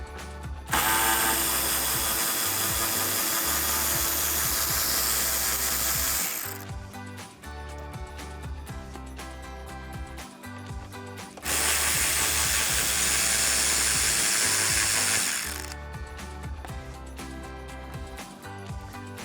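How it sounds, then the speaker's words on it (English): A 10mm socket on a ratchet loosens the front headlight bolts of a 2009-2018 RAM 1500, giving two long runs of rapid, loud clicking up close, with quieter fiddling between them and no talking. "using my 10mm socket and ratchet, I'm going to remove the 2 bolts here on the front of the headlight"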